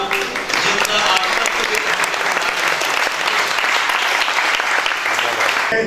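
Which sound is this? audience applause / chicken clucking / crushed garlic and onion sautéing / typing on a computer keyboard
audience applause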